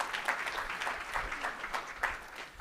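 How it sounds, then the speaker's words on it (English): A nonprofit storytelling event audience gives a round of applause. Dense, even clapping with a few sharper claps carries through the whole short stretch at moderate volume, with no talking. "Let's give him a round of applause."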